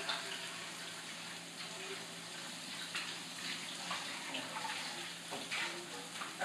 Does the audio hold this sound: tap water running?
yes